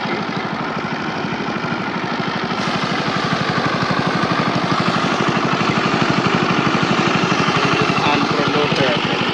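A motorized rice threshing machine runs steadily nearby during harvest, a loud continuous engine drone with a rapid rhythmic chugging pulse and no pauses, heard alone.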